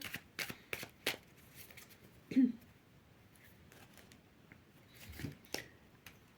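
Tarot cards are shuffled by hand for a reading: close, crisp riffles and flicks come in short bursts separated by pauses.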